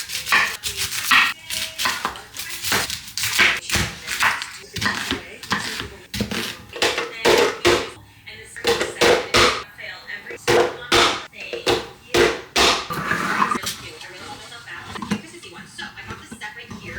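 Food is chopped on a cutting board during meal prep, with quick runs of sharp knife knocks in uneven bursts and short pauses, close and fairly loud, while a voice talks.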